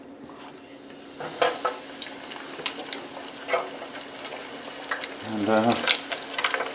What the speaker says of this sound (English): let's drop some fish. I'm going to drop these 2 big pieces first.